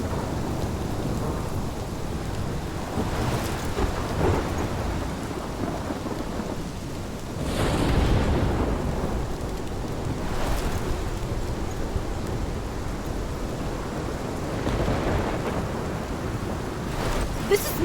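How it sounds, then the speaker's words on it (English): Thunderstorm with steady rain in the game Life is Strange, heavy downpour hissing throughout with several deep thunder rumbles rolling in, the loudest swelling near the middle, no talking. "This is my storm."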